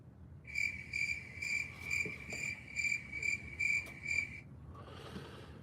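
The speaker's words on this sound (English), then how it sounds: "Crickets, please." A cricket chirping sound effect played back through speakers, with rapid, evenly spaced high chirps in a steady run for about four seconds before stopping, fairly quiet over a soft background hiss.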